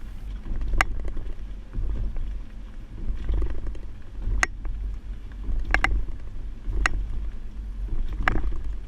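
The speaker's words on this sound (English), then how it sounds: "Now we're at the alternating speed bumps. This will show you how it looks driving on uneven pavement or potholes." A 2016 Mazda carrying a Kuat NV 2.0 two-bike hitch rack rolls over alternating speed bumps, a low steady road rumble punctuated by several sharp knocks and rattles as the rack and bikes jolt, with no talking.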